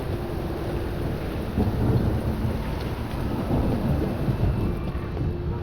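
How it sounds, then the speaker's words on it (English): Steady rain with low rumbling thunder in a stormy city scene from the video game The Witcher 3: Wild Hunt, a continuous even wash of downpour with no speech. "It's raining again."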